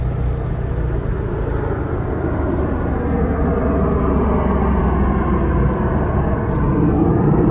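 A Dodge Challenger Hellcat driving, its engine a steady, loud low rumble with road and wind noise that holds at a constant drone throughout, no voices present.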